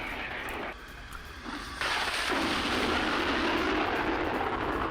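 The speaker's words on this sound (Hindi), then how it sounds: "लीवन में रूसी मिसाइल सिस्टम का हमला" Artillery fire from a Russian missile system attack gives heavy, rumbling blasts and a sustained roar that swells sharply partway through and stays loud to the end, with no talking.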